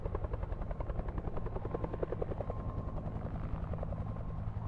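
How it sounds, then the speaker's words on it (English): A helicopter in the horror adventure game Alpha Polaris, its rotor beating in a steady, close, rapid thump over a low engine drone, heard alone without voices. "Sounds like a chopper."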